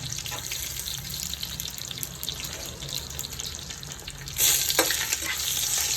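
Dry sizzling and scraping as whole spices, including cumin, cloves and cardamom, are stirred and roasted in a pan, growing louder toward the end.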